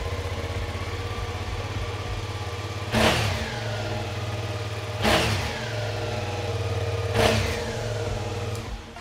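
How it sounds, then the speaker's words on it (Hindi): A Suzuki V-Strom 650XT V-twin motorcycle idles steadily close by, its low even hum broken by three short throttle blips spaced about two seconds apart. "एक बार इसकी आवाज़ सुनते हैं कि वी ट्विन इंजन ऑब्वियसली कैसी आवाज़ करता है"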